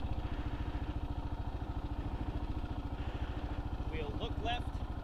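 Kawasaki KLR motorcycle engine idling nearby with a steady, lumpy pulsing beat, while a person talks over it.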